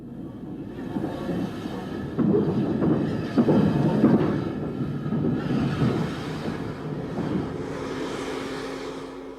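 A small narrow-gauge steam locomotive, number 327, rumbles and chuffs as it moves off the shed, with clanking and rolling noise swelling then easing, fairly close.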